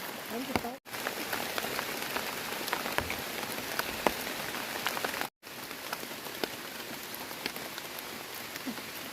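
Heavy rain pours down steadily, drumming on a surface close by with dense patter and a couple of brief breaks in the sound.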